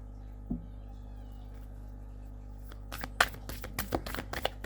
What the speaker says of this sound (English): Sorry, I'll just move these cards.